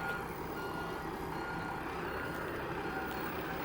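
A bus on Rottnest Island gives off steady reversing beeps, a faint repeating tone over a constant engine hum and outdoor background, with no voices.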